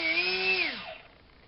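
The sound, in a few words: rewound DYS 2205 brushless motor running on thrust test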